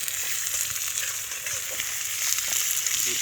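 Chopped onions frying in a pan while a broccoli and mushroom dish is cooked outdoors on a picnic, giving a steady, close sizzle with faint stirring clicks and no talking.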